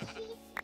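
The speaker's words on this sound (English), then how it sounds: "Oh, sheep." A short, single sheep bleat from a video game, brief and fairly faint with no talking over it.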